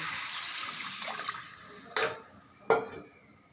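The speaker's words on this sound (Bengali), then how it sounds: "দিয়ে দেব পরিমাণ মতো জল" Water pours from a vessel into a pan of prawn fritter curry with potatoes, a steady splashing stream that fades, followed by two sharp clinks of a pot or utensil.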